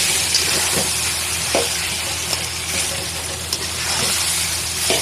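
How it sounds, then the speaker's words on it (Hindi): Garlic, ginger and green chili paste frying in hot oil gives a steady close sizzle and hiss, with faint stirring clicks throughout and no talk. "अब इसमें मैं लहसुन अदरक और हरी मिर्चों की पेस्ट डाल दूंगी और इसकी भुनाई करूंगी 2 से 3 मिनट के लिए"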